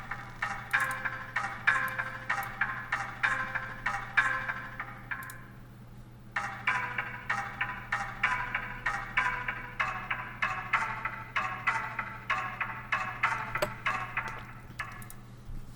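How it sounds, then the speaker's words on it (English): The Siberia sound design patch from Spitfire Audio's Percussion Swarm produces a fast, clattering pulse of bright ticking hits over a low hum, pausing briefly and then resuming at a moderate level. "And I also have this sound design patch,"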